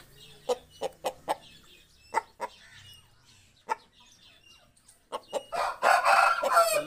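A fine show rooster gives several sharp, close clucks and short calls spaced through the first seconds, then breaks into a loud, drawn-out crow at the end, with no speech.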